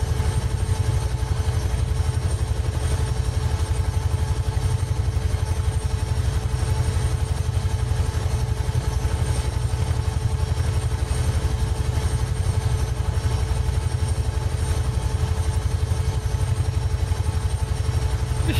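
A Huey helicopter in the game MSFS2020, flying low over Mexico while chasing a Cessna 206: a loud, steady rotor thump and turbine whine that runs throughout, close and unbroken.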